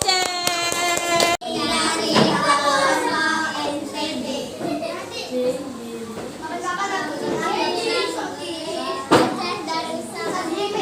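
Children in a classroom clap their hands together in rhythmic bursts amid lively chatter, with an adult voice leading them and a sharp cutoff early before the noise picks up again.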